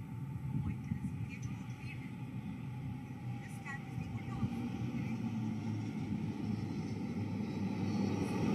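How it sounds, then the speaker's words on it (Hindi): A Dornier aircraft built by Hindustan Aeronautics Limited passes overhead in a naval flypast, its engine making a steady broad drone throughout. "अब आ रहे हैं हिंदुस्तान एरोनॉटिक्स लिमिटेड द्वारा निर्मित डॉर्नियर विमान"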